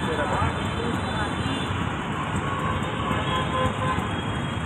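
Street traffic idles at a traffic signal on a busy Sunday, giving a steady loud roar of engines with occasional horn toots and a voice talking over it.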